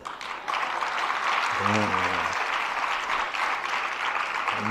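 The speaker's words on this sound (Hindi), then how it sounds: "ठोक दो ताली।" A congregation at a religious discourse breaks into sustained clapping, loud and even, with a voice briefly sounding under the applause partway through.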